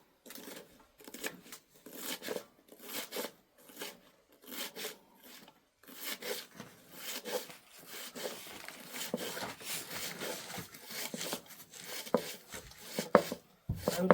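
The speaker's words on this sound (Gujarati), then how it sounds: "મિત્રો આપણે લીલું લસણ કાપી લેવું," A knife finely chops green garlic on a board in quick, rhythmic bursts of crisp taps, fairly quiet and close, with short pauses between runs of cuts.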